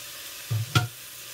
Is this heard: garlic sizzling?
yes